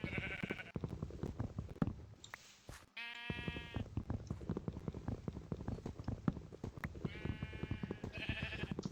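Sheep bleat at a snowy spawn point in the video game NationsGlory, several wavering game-style bleats at the start and near the end over a busy stream of rapid clicking and footstep sounds.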